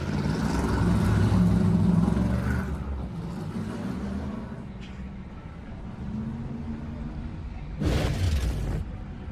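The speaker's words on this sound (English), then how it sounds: "sounds like we're hearing cars starting to put it in gear and pull away" NASCAR Cup cars rumble with deep, heavy engine noise as they are put in gear and pull away. The sound is loud and low, fading slightly, then swelling in a short, sharp burst near the end.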